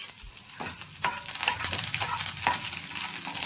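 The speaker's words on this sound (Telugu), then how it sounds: "పచ్చిమిర్చి బాగా వేగాలి, వేగితేనే పచ్చివాసన పోతుంది." Cut green chillies frying in a hot pan, with a continuous sizzle broken by regular scraping stir strokes about every half second, close and fairly loud with no talking.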